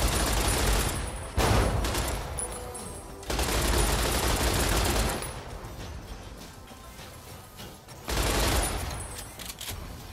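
Sustained bursts of light machine gun fire in Fallout: New Vegas, loud and dense, with rapid automatic volleys broken by short lulls and renewed bursts toward the end.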